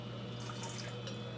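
Warm water pours steadily into a bowl in a home kitchen while pizza dough is being made, a continuous close trickle with no talk.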